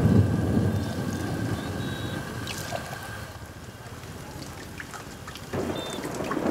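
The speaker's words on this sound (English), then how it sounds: "It's going to rain." Rain falls steadily in an outdoor film scene, a broad wash of patter with low thunder rumbling beneath, staying moderately loud throughout and briefly swelling near the end.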